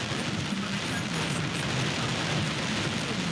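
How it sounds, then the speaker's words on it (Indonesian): Heavy, intense rain pours down steadily across the Jakarta area during extreme weather, a dense, loud, continuous wash of noise with a low rumble beneath. "Hujan dengan intensitas yang tinggi terjadi di sejumlah daerah, termasuk di kawasan Jabodetabek."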